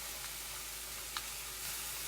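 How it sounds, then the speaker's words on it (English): Bolani filling sizzles steadily in a pan as a soft, even hiss, with one brief tap partway through and no talking. "I'm just gonna let it sizzle a little bit for maybe another minute or two"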